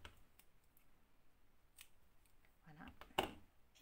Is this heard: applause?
no